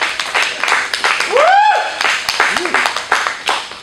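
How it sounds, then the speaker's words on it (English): Audience clapping and cheering at a fitness talk, scattered claps mixed with a whoop and excited voices, fairly close and lively, lasting only a few seconds. "Give her a round of applause."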